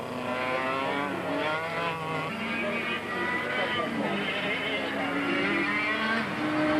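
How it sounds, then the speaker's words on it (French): Racing karts brake and work through a corner during a 1998 CIK Europe Championship ICA race. Several high-revving two-stroke engines snarl at once, their pitch stepping down and shifting as they slow, loud and continuous throughout. "David Silvestri nous montre comment contrôler un kart au freinage"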